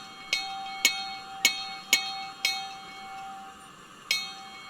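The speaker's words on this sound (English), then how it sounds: "And the bell sound is really nice." Locomotive bell of a Neilson box tank engine in Train Simulator Classic rings six times, five in an even rhythm and one after a pause, each bright metallic strike ringing on with a sustained tone and no talking.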